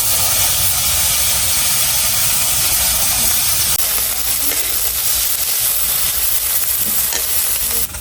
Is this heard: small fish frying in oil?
yes